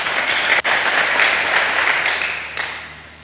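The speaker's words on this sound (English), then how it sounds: "Kindly clap for him." An audience at a high school alumni get-together applauds in a dense, steady burst of clapping that tapers off toward the end.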